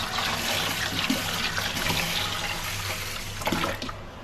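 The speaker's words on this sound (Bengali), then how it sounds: "ধুয়ে একসাথে সব চাল ভালো করে ধুয়ে নিচ্ছ।" Rice is being washed in water, with steady sloshing, splashing and trickling close by and small bursts of stirring and pouring throughout.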